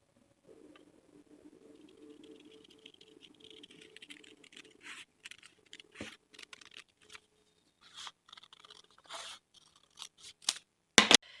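Scissors snip through a paper sewing pattern for a western blouse, with a rustle of paper handling, then a run of short, sharp cuts that grow louder toward the end, and a strong final snip.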